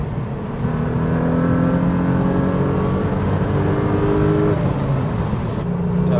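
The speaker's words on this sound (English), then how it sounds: "Car loves to rev match." A Renault Clio V6 engine revs up and holds a steady, loud drone through a gear change, with a brief blip as revs are matched near the end; close and alone, no talk.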